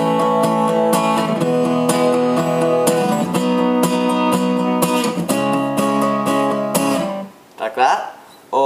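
Steady, full guitar down strums without palm muting, ringing chords for about seven seconds, strong and continuous, then it stops abruptly and a few faint noises follow.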